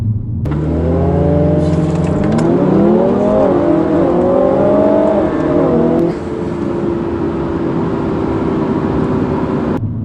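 A Mini JCW Clubman accelerating hard from 0 to 60, the engine note loud and steady as it climbs through the revs, dropping slightly at a gear change before pulling on, with no talk.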